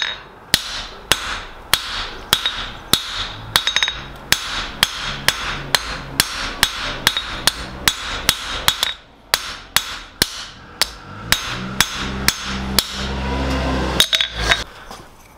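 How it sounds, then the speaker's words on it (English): Rapid, steady blows of an undressed hammer ring on a piece of aluminium over an anvil, dozens of sharp metallic strikes with a brief pause midway, loud and close. "now I'm going to hit it with my undressed hammer"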